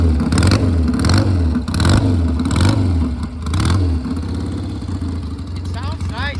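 A 1971 Triumph Bonneville café racer revs after a cold start, its loud, nearby engine rising and falling in repeated throttle blips before settling, with voices talking over it.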